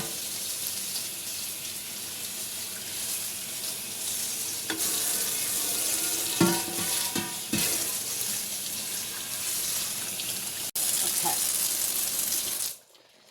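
Water runs steadily from a tap into a sink, with some splashing and clinking as something is rinsed, before the flow abruptly stops.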